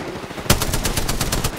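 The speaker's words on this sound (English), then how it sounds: "Taking fire." Rapid automatic gunfire from a video game bursts in suddenly and continues as a dense, evenly spaced rattle of loud, close shots with no pauses.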